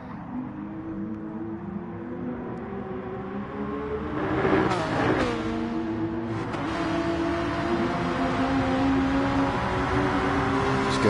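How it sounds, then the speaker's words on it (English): Gr.3 race cars in Gran Turismo howl around the Nürburgring, engines revving and shifting with rising and falling pitch, one car surging louder midway as several run close together. "I went a bit silent obviously, to listen to the engines"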